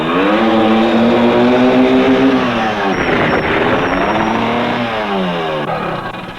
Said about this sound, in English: This is where you stop the first time, by using the rear brake only.